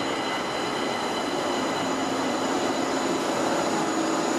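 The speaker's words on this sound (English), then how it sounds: "Here comes our light rail." A Pittsburgh light rail train pulls in, a steady loud rumble of wheels and motors on the track with a faint high whine, continuous and close throughout.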